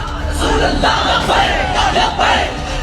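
A large crowd of supporters gathered to hear Saad Rizvi at a rally, roaring and chanting together in loud, continuous surging waves of massed voices.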